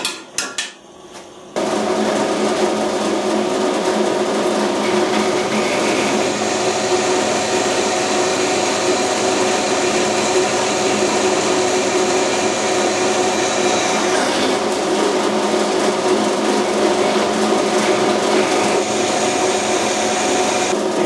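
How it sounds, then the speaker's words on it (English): A power drill runs steadily for about twenty seconds, a loud, continuous whirring grind with a slight change in pitch partway through. "I can hold that and drill the hole, no problem at all"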